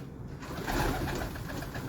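A large Teddy pigeon gives soft, close coos in a short, steady murmur, with no voices over it.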